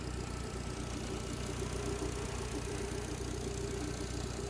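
A Fiat 500 Sport with a 1.4 16V petrol engine idles close up, a steady low hum with a faint rhythmic ticking underneath, even and unchanging throughout.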